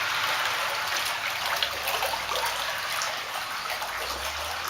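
Fresh water pours and splashes steadily as a koi gets rinsed while being moved to its winter home, a continuous close wash of running water with no break.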